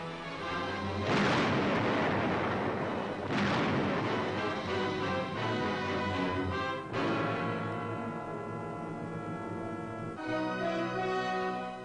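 High explosives blast fortress caves on Iwo Jima: heavy, loud booming detonations roll out around one and three seconds, with sustained tonal sound running beneath throughout.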